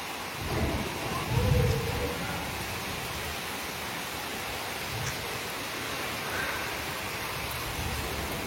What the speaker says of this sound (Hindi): वर्षा जोरसोर वर्षा पवन